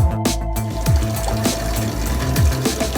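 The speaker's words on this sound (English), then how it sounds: "the first rinse is very important. You have to get the starch out and then dump it quickly or it goes back into the rice" Sushi rice is rinsed in water by hand to wash out starch, with close, loud sloshing, swirling and splashing that repeats in rough rhythmic strokes.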